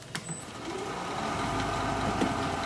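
Steady whirring grind of a wood turning tool being sharpened on a grinder, continuous and fairly close for the whole stretch with no talk.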